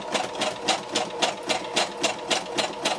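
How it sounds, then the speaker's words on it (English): A sewing machine stitches along the top edge of a paper card pocket, running steadily with a fast, even rhythmic clatter of the needle at close range, with no one talking. "now I'm just going to sew along the top"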